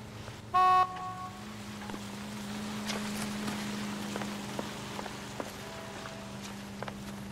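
Rain falls steadily in the video game L.A. Noire, an even hiss with scattered drops throughout, broken early by a brief loud horn-like tone over a low constant hum.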